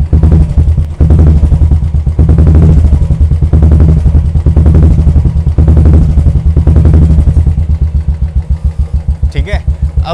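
A Royal Enfield motorcycle fitted with a Cobra silencer is revved up by the throttle, a loud deep thumping exhaust note that rises and falls close by.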